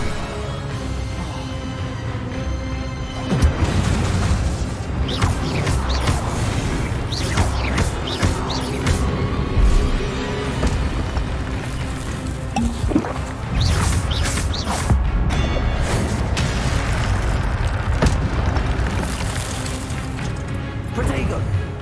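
Spell casting in Hogwarts Legacy, including levitation, summoning, disarming and fire spells, fired in quick succession as loud cracks, booms and whooshing bursts over dense game music, with a voice speaking throughout.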